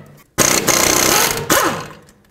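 A bolt comes off the brake caliper of a 2005-2009 Chevy Equinox, most likely with an impact or power tool: a loud, close mechanical whir lasting about a second, a brief drop, then a second burst that winds down.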